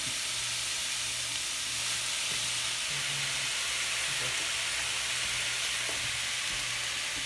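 Ground turkey sizzles and fries steadily in a hot pan for taco filling, a continuous close hiss with faint scraping stir sounds and no talking.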